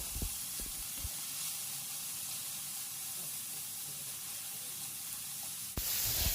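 Bell peppers sizzle in a hot pan, a continuous soft hiss with a few clanks at the start and a sudden louder burst of sizzling near the end.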